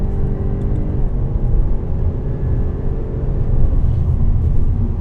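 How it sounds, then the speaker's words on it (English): A 2016 Jaguar XF 35t R-Sport cruising through Los Angeles in quiet comfort mode gives a steady, low cabin rumble of engine and road noise with a soft whirring undertone, even and unbroken. "it is a pleasure to cruise around LA in it in quiet drive comfort mode"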